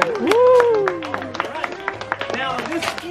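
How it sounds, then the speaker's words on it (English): A crowd at the Polynesian Cultural Center claps for a roasted pig lifted from an underground imu oven, with scattered, uneven handclaps following a spoken voice. "How about a round of applause for the pua'a?"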